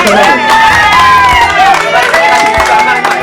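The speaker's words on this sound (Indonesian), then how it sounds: "Tepuk tangan" An audience at a community meeting with residents in Ambon claps and cheers, with loud mixed shouting and whoops, children's voices and crowd noise mingled with clapping throughout.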